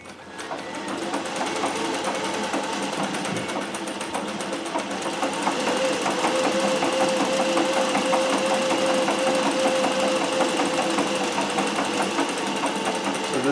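A treadle-powered Singer 411G with a custom balance wheel stitches steadily, a close, even mechanical whir and rapid needle clatter that runs unbroken and grows slightly louder midway.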